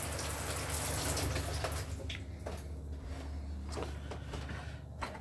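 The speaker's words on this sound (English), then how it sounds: "And the shower itself running fine as well. So all the pump system's working on board." The shower runs in a 2015 Swift Challenger Hi Style 554 caravan, fed by the onboard pump system, with a steady close rush of water and a few sharp knocks and splashes as it eases off.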